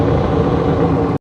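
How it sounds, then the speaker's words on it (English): Synthetic Lamborghini engine sound played through an external speaker mounted on a car, a steady loud engine drone that holds evenly for about a second and then cuts off abruptly. "Not only can you use car sounds like the Lamborghini"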